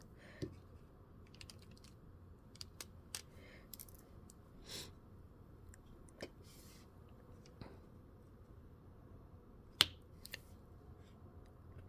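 Small plastic diamond painting drills being pressed into place give sparse, crisp little clicks at irregular intervals, faint and close in an otherwise quiet room.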